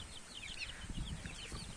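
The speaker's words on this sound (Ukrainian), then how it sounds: "Це індичата наші вилуплені з інкубатора." White broad-breasted turkey poults, newly hatched from an incubator, give soft, faint peeping and cheeping calls in a steady, quiet chorus with no talk.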